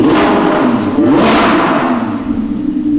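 An Audi R8 RWS sports car engine with a tune and aftermarket exhaust revs loudly nearby, rising and falling with a deep, raspy exhaust growl and a throaty roar.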